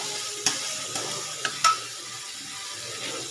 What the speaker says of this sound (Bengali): ভালো করে মশলাটাকে একটু কষিয়ে নেবো